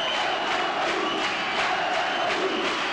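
A basketball crowd in a sports hall in Körmend roars and cheers during a 1996 championship final game, a dense, sustained wash of voices with rhythmic swells, heard from within the hall.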